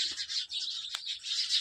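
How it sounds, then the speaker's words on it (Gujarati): Sparrows chirp in a dense, continuous chatter of small bird calls at a village fair, steady and fairly close throughout, with one brief sharp sound partway through. "કિલકિલાટ કરે ચકલા."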